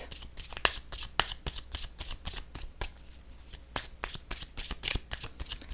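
Tarot cards being shuffled by hand in a quiet room, a steady run of crisp riffling flutters and soft slaps repeating throughout, close and alone with no talking.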